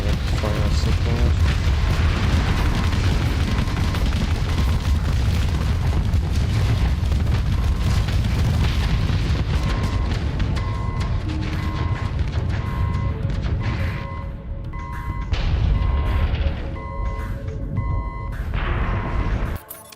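Artillery fire support in a space combat game: continuous heavy booms and blasts rumble loudly for the whole stretch, dense and layered, with occasional sharper bursts and tonal game effects over the top.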